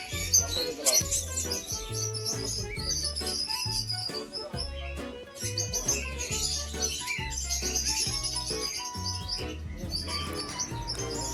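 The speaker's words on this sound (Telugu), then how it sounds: "ఇవన్నీ బర్డ్సే." Many birds chirp and call together inside an aviary at a park in Yercaud, Tamil Nadu, a dense, steady chorus of overlapping tweets with a low rhythmic thumping beneath.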